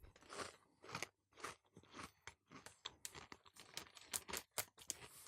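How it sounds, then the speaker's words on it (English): Crisp, dry crunching and chewing of KFC Double Crunch crisps, close to the mic, with a long run of sharp irregular bites and chews following one another without speech. "Let's see if the sound matches the double crunch."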